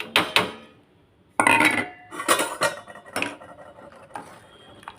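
Ada rice flakes tipped into boiling milk in a pot for ada payasam and stirred; sharp metallic clinks and scrapes of a spoon against the pot come in short irregular bursts with quiet gaps, close by and without talk.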